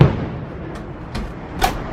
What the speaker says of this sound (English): and it's fireworks time